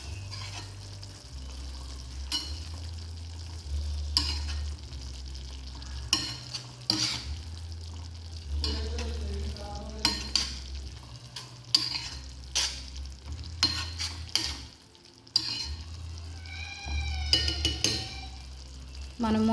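A pan of karivepaku (curry leaf curry) with a piece of jaggery just added is stirred steadily, the spoon scraping close and clear over a soft, continuous sizzle of frying.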